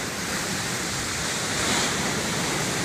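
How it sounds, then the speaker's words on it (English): Ocean waves break against a break wall at Ahalanui Beach Park in Hawaii, a steady, full roar of surf and churning water that swells slightly near the middle. "They really make a big splash on the break wall and push a lot of water in"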